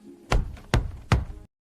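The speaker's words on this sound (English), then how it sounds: "he heard a knock on the door." Three firm knocks on a wooden door, evenly spaced about 0.4 seconds apart, close and distinct, then silence, used as a story sound effect.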